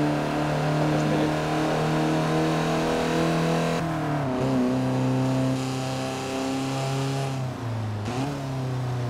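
A car engine in the Forza Horizon 4 racing game holds a loud, steady droning rev, dipping briefly twice as the pitch shifts between gears, with no voices.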